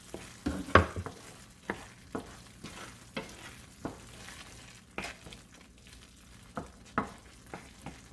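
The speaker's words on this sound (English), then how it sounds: "we are going to add our fish sauce and the diced squid. Mix it up." Fish sauce and diced squid stirred in a paella pan for seafood paella, with scraping strokes at irregular intervals over a soft, steady sizzle, close and moderately loud.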